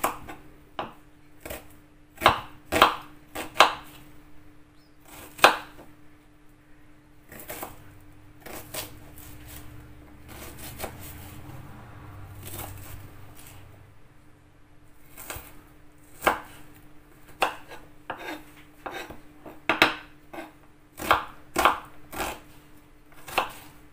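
A knife chopping garlic on a board while cooking mushroom chicken noodles: close, crisp, irregular chops in quick clusters with short pauses, fairly quiet and without talk.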